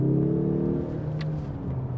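The engine of a 2021 Mazda 3 Turbo hatchback revs smoothly under acceleration, a close, steady droning hum from inside the car, with no voices.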